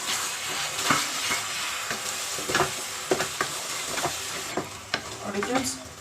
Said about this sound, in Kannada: ಇವಾಗ ರುಬ್ಬಿಟ್ಕೊಂಡಿರೋ ಟೊಮೆಟೊ ರಸನ ಹಾಕ್ಕೊಳ್ಳೋಣ.